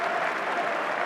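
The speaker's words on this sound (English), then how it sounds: "And the applause of the home fans and the boss on the touchline." Home fans at a Norwich City v Stoke City Championship football match applaud in a brief burst, a dense wash of clapping from the stadium crowd.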